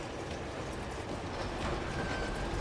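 Train in the Uncharted 2 video game running on rails toward a tunnel, a continuous loud rumbling roar with rhythmic rattling and a faint metallic whine, steady throughout with no talk.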